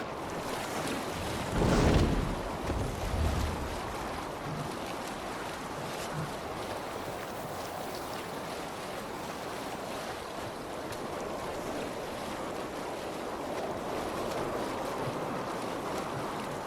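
A Viking longship sailing out of a fjord in Assassin's Creed Valhalla, steady rushing water and wind along the hull with a brief louder splash early on, no voices.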